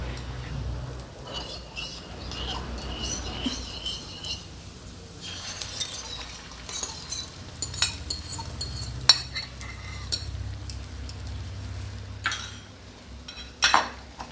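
Beaten egg being stirred into grated coconut in a pan, with a spoon scraping and clinking against the metal in scattered, uneven taps over a low background hum.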